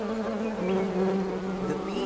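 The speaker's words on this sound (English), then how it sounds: "What's that buzzing noise?" Cartoon bees from the Gigantosaurus video game buzz steadily throughout, a continuous droning hum with a slightly wavering pitch, moderately loud and alone with no voices.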